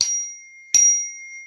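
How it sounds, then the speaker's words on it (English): A small meditation bell is struck twice, each strike giving a bright, sharp ring that decays quickly, close and loud with silence between the hits. "They are meditation bells."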